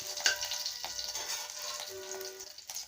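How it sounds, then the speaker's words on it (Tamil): Fennel seeds and crushed garlic cloves frying in hot oil in a pan for a Tamil chicken curry, a soft continuous sizzle with occasional stirring scrapes, close by and fairly quiet. "இப்போ நம்ம போட்ட சோம்பு நல்லா பொரியுதுங்க"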